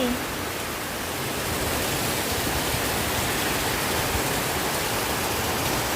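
Heavy rain pours down in Lat Krabang, Bangkok, as a dense, steady, close hiss with no letup and no voices.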